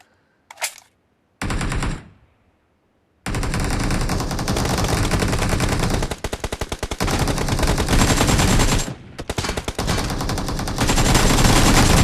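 Video game gunfire comes in a few brief shots, then long sustained bursts of rapid automatic fire, loud and close, with short pauses between them.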